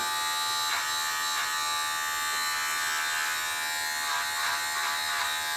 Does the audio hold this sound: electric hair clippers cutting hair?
yes